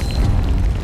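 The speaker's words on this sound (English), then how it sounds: "Dr. Junkenstein lobbed his bombs at the castle. The explosions of percussive accompaniment." Bomb explosions in the Overwatch game mode Junkenstein's Revenge, heard as a dense, loud, continuous rumble of booms with no clear gaps between blasts.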